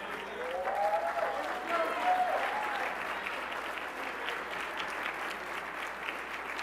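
Fairly faint applause from an awards ceremony audience for the Board of Governors, steady clapping throughout with a voice briefly audible near the start.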